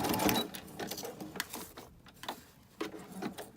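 Sewing machine running a short zigzag stitch through a paper flower on an altered book page, a close, uneven mechanical whirring in several short bursts with brief pauses.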